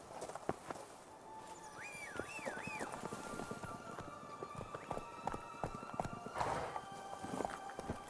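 Roach the horse walking in The Witcher III: Blood and Wine, a quiet steady series of hoof clip-clops with a brief whinny early on, faint and close over soft ambient background.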